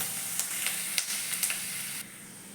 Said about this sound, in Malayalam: അപ്പോൾ ഇതെല്ലാം നമുക്ക് ഇച്ചിരി ഒന്ന് വഴറ്റിയെടുക്കാം.